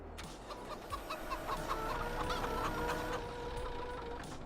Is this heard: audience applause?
no